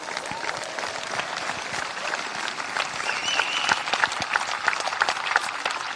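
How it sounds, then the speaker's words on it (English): Crowd applauding a little athletics team at an Australian championships presentation, dense steady clapping from many hands with a slight swell toward the end, no voices on top. "You all deserve a huge round of applause for the effort you've put in"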